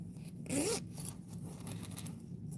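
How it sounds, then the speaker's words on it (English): A zipper on a bag is pulled open in one quick, close, loud zip, followed by quieter handling rustle, with no talk. "And I like that zipper that opens up like that."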